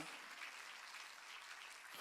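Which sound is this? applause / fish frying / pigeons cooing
applause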